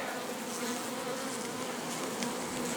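Dense, continuous buzzing of many honeybees, close and steady, with a constant hum and no voices.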